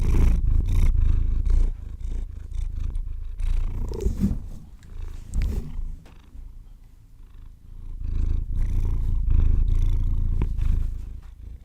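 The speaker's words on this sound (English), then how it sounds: "I don't know if you heard the big purrs." Loud, continuous rumbling cat purr close to the listener, throbbing steadily with a softer dip partway through.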